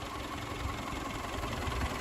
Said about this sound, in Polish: Silnik pracuje równo, cicho, bez żadnych zgrzytów, nieprzyjemnych jakichś dźwięków.